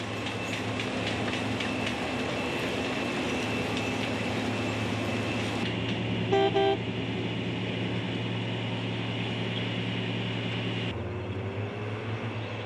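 Road planing machine cutting into a compacted excess layer with its hydraulically controlled drum, a following truck hauling away the planed material; a constant loud mechanical roar with a steady hum, unbroken for the whole stretch.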